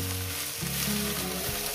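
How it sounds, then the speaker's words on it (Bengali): Chopped mustard greens frying in hot oil in a pan for a Bengali mashed-greens dish with rohu fish, a steady close sizzle and crackle with soft stirring and no voices. "আমি শাকটাকে মিনিমাম 4-5 মিনিট ধরে ভেজে নিয়েছি।"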